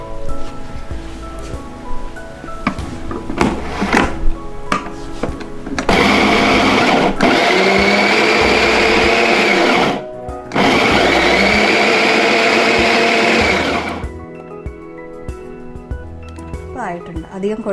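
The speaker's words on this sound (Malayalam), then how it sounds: "വളരെ കുറച്ച് വെള്ളം ഒഴിച്ച് ഒന്ന് കറക്കിയെടുക്കുക." A kitchen mixer grinder whirs loudly as it grinds soaked rice and tamarind with a little water, running steadily in two long bursts with a short pause between, framed by quieter kitchen sounds.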